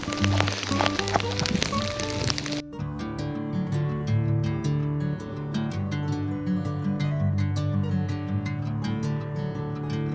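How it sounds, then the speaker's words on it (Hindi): Heavy rain falling on a mountain fort trek in freezing wind, a dense steady hiss of drops close by that continues unbroken after a brief louder burst at the start. "क्योंकि बारिश बहुत तेज़ हो चुकी है।"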